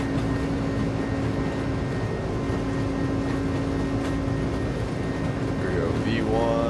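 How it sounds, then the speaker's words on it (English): Cabin noise of an Iran Air Airbus A300-600 airliner on its takeoff roll, a loud steady engine roar with rumble that holds throughout and rises slightly toward the end. "Takeoff roll."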